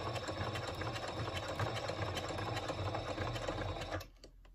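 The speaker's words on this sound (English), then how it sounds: "and then we're going to sew up the side." A sewing machine stitches up the side seam of a canvas tote bag, a steady continuous motor whir and rapid needle chatter running for about four seconds before stopping abruptly and leaving near silence.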